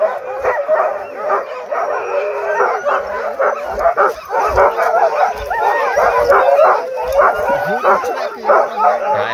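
Sled huskies in Norway bark, yip, whimper and howl excitedly all at once, a dense, continuous chorus of many dogs close by, with people talking faintly underneath.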